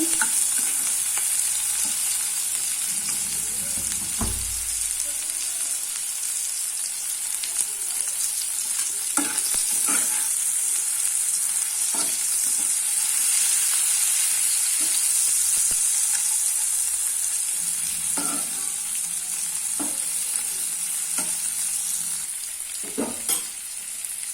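Prawns frying in a pan with already-fried onions, a steady hiss and sizzle running throughout, close and loud, with occasional stirring scrapes and clunks of a utensil against the pan.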